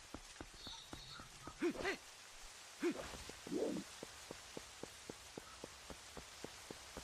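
Soft, steady rain falls in The Legend of Zelda: Twilight Princess, a faint hiss under evenly spaced light ticking steps, with a few brief spoken words partway through.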